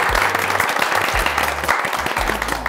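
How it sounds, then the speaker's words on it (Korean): A studio audience at a Korean television birthday show applauds steadily as climbing club members are welcomed onstage, a dense, continuous wash of clapping throughout. "큰 박수 부탁드립니다."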